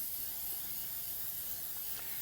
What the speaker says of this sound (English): We're going to add actually a little bit of our spray